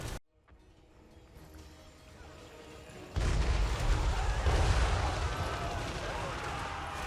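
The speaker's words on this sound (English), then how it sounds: "Magma cannons, sorry, not Inferno cannons." Chaos Dwarf magma cannons firing in the Total War: Warhammer 3 battle game, a dull rumble swelling into a loud, sustained roar of heavy blasts and explosions from midway on.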